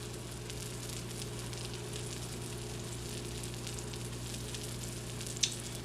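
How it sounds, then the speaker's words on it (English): Faint, steady sizzling of breakfast frying in a pan on a wood heater, a soft continuous crackle over a low hum, with one small pop near the end. "But this is starting to sizzle."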